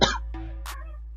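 A single sharp cough, followed by a short throat-clearing rasp and a brief breathy burst, all close and fairly loud with no talking.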